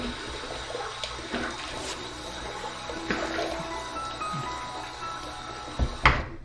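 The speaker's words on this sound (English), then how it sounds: "Let me wet the face and we'll get to the shave." Water splashes and runs close by as a man wets his face at a sink before a razor shave, a steady wash broken by a few louder splashes near the end.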